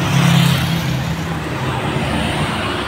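Traffic flows steadily along the main road in Caruban town, with a continuous roar of cars and heavier vehicles and a low engine hum prominent at the start.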